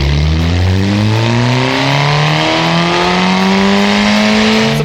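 A Hirochi Sunburst in the BeamNG driving game, built on a 2-litre engine with its turbo switched off in Scream mode, blares through a very loud exhaust, the engine note climbing steadily through a long sustained acceleration with no talk.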